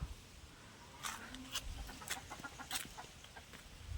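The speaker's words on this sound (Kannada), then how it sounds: "ಸೊ ಕೋಳಿನೂ ಸಾಕೊಂಡಿದ್ದಾರೆ ಅನ್ಸುತ್ತೆ" Several short hen clucks come in scattered bursts over a quiet outdoor background, fairly close, with no voices.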